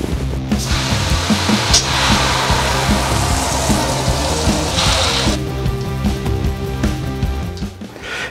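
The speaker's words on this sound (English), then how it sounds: "we got the mash tun ready, or what we're gonna do now is 11 gallons of water." Water running into a homebrew mash tun while eleven gallons are measured for a pilsner brew, a loud, continuous rushing hiss with steady flow and no talking.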